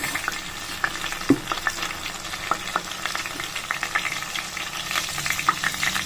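Mustard seeds crackle and pop in a pan of hot oil while tempering for Rayalaseema-style sambar: a steady close sizzle broken by scattered sharp pops, with no talking.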